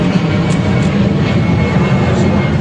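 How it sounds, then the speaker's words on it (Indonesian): An airplane flies overhead with a loud, continuous low roar of engine noise that holds steady and close for the whole stretch, with no voices over it. "suara pesawat."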